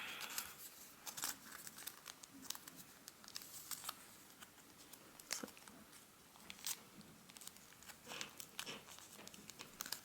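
Thick paper folded into an origami fish, heard as faint, close crinkles and soft crisp creases in irregular bursts.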